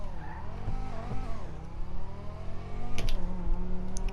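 A car in GTA 5 launches with a double clutch, its engine revving loud and high with rising and falling tones. Tire squeal sits under the engine, and a few sharp clicks come near the end.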